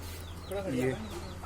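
A desi hen losing its feathers gives a short run of soft clucks, close by, over a low steady background hum.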